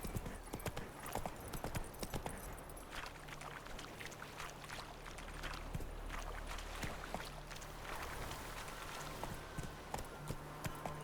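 Roach the horse's hooves clip-clopping steadily in The Witcher 3 video game, a rapid repeating beat of close, crisp hoof strikes over a low ambient hum, continuing throughout.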